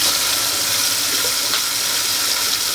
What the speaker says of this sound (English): We're gonna go ahead and turn some running water on.